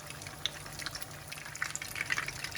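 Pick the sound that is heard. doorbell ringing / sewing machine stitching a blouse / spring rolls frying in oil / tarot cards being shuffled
spring rolls frying in oil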